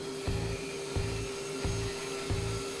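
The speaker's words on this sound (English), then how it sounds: "Then it was time to cut the shape using my bandsaw." A bandsaw cuts a horse shape out of wood, its motor humming steadily while the blade bites in regular surges about every two-thirds of a second, close and fairly loud with no voices.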